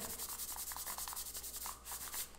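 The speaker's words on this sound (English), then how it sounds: "Give it a little rub, activate the glue with the heat." Hands rub quickly back and forth over kinesio tape on skin, making a soft, close, rhythmic swishing friction sound with no talk.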